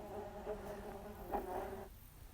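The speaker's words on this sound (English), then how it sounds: "the bees swarmed straight into their new home" A swarm of bees buzzes in a low steady drone with slightly rising swells, moderately faint and continuous, before cutting off near the end.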